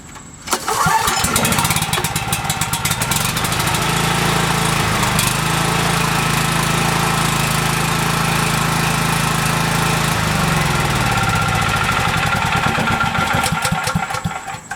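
A portable petrol generator is pull-started with a quick rattling cough, then settles into a loud, steady engine drone, lightly changing pitch about two-thirds through as it keeps running close by.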